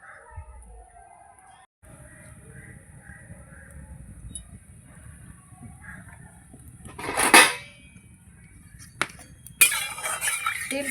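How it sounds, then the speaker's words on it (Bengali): A wok (kadai) set down on a lit stove in a home kitchen, giving a sharp metallic clank followed moments later by another clatter, over faint crackling and quiet background noise. "কড়াটা বসিয়ে দেবো।"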